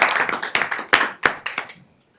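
Short burst of audience applause at a college board meeting, a few sharp claps rising and fading over about two seconds before quiet.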